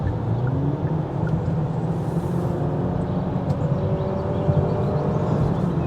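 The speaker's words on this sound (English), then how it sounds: "It revs freely, this car." Revving from a non-turbocharged engine in a 2025 Kia K4 GT-Line: a steady, fairly loud mechanical drone with rising tonal harmonics, heard from inside the car without speech.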